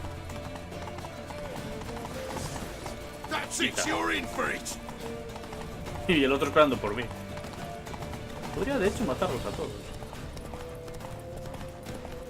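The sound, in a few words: horse hooves in the video game The Witcher 3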